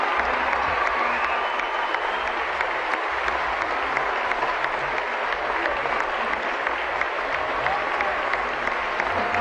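Sustained applause from a crowd of about 2,400 faithful welcoming the Pope, steady and dense throughout with a scattered murmur of voices in the mix.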